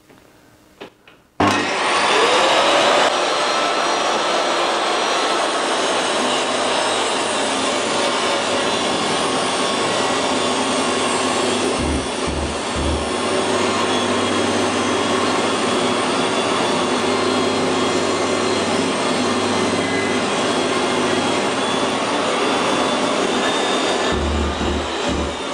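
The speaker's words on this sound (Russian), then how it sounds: "Пилить будем по параллельному упору." A DeWALT DWE7491 table saw rips wood along its rip fence while shop vacuums run, making a loud, steady roar close by for over twenty seconds after a sudden start.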